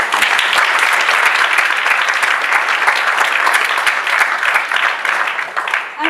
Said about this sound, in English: every bit deserving of that rapturous applause